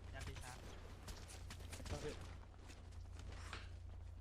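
Gunfire in a multiplayer battle video game: quiet bursts of rapid shots and scattered single cracks form a busy, uneven crackle, with excited talk from players running over the shooting.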